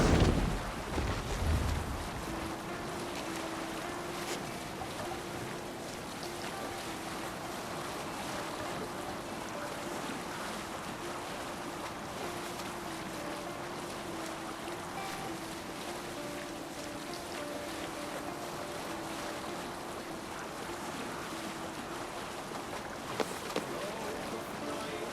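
A sailing ship at sea in Assassin's Creed Valhalla, with a steady wash of waves and wind rushing over the hull and a low creaking drone running throughout, with a brief louder burst at the start.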